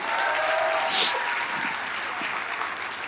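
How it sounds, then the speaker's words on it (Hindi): Audience at a large rally or sales event for a Vijay Rath Yatra clap together in sustained, even applause, dense and steady throughout with a slight swell near the start. "एक बार तालियां होनी चाहिए"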